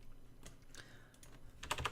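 Someone types on a computer keyboard while playing Minecraft, producing quiet, irregular key clicks that come in small scattered bunches and end in a slightly denser burst of taps.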